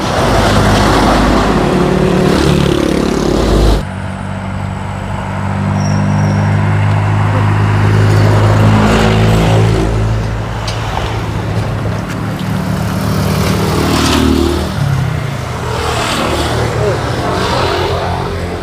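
Fast vehicles rush along a roadside bypass in a steady wash of traffic noise, swelling as cars pass close by, while people talk nearby.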